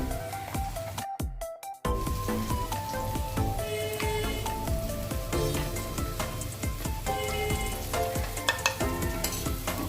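Cumin, coriander, chili powder and ginger paste fry in hot oil for a potato-and-pointed-gourd curry, giving a steady close sizzle with frequent spoon scrapes and stirring clatter, a brief quiet gap near the start.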